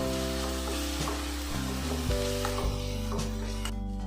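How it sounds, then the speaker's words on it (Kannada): Ginger garlic paste frying in hot oil for Andhra-style chicken pulusu, a steady close sizzle with stirring scrapes throughout, over a constant low electrical hum. "ಶುಂಠಿ ಬೆಳ್ಳುಳ್ಳಿ ಪೇಸ್ಟ್ ಹಾಕ್ಕೊಂಡು ಚೆನ್ನಾಗಿ ಫ್ರೈ ಮಾಡ್ಕೋಬೇಕು ಒಂದು ನಿಮಿಷ"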